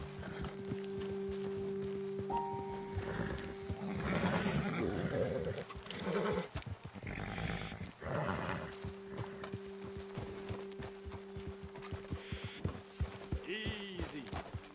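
Horses in Red Dead Redemption 2 clip-clopping on the ground in an uneven rhythm, with a short neigh and snorts over a steady low musical hum, and voices speaking at moments.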